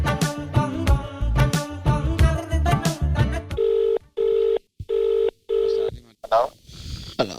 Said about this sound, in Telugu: ఇంకో నెంబర్కి నేను ఫోన్ చేద్దాం